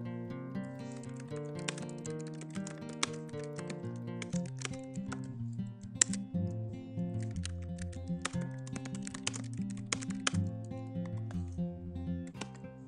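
Keys clatter on a computer keyboard in quick, uneven bursts of typing, heard over steady tonal background music.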